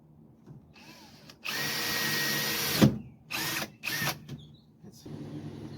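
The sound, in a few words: power drill drilling a hole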